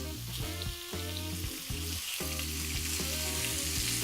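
Beef sizzles and spits steadily in a hot pan already used for onions, a loud continuous frying hiss with bursts of crackle and faint scraping, no voices over it.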